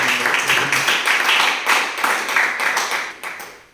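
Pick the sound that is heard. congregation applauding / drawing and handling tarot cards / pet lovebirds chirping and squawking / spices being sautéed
congregation applauding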